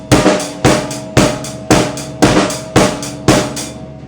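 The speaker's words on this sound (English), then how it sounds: "He actually puts these double 16th notes on the snare drum on beat 2E." A close, loud drum kit plays a groove, with snare and bass on quarter notes and hi-hat eighths, adding quick double sixteenth-note snare hits on beat two that make some strokes sound like rapid flams, with no talking.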